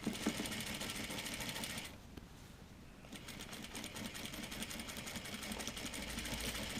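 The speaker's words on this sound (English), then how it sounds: "Trying to sew to the left of the stitching." Close, steady sewing machine whir while stitching the collar band of a Vogue 9039 jacket, with a short pause near the middle before the motor resumes at an even, unhurried pace.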